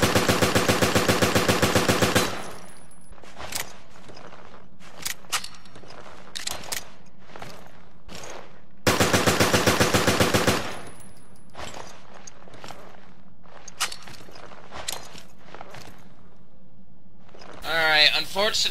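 Rapid-fire bursts from the golden High Roller AK-74 in Resident Evil: Revelations, two loud sustained volleys with quieter clicks and scattered impacts between them and a short noisy flurry at the end.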